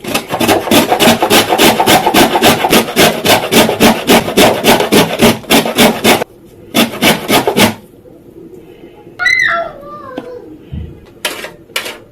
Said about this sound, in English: I'm going to use the coarse part of my grater over here to grate the zest out.